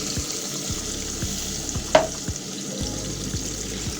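Thick spaghetti paste thinned with a little water sizzles and bubbles in a pan, a steady close frying hiss with a few soft pops and clinks, no talking.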